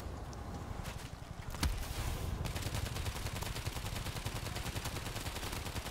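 Automatic rifle fire rattles in rapid bursts during World War Z, then settles into a sustained fast stream of close, loud shots that continues to the end.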